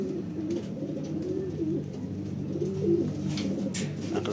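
A racing pigeon coos in repeated low, throaty phrases close by, with a few faint background noises.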